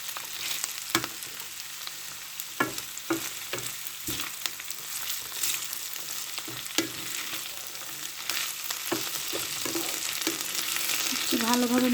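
Thinly cut potatoes and bitter gourd fry in a pan with a steady sizzle, punctuated by repeated scraping taps of a utensil stirring them, the frying growing slightly louder toward the end.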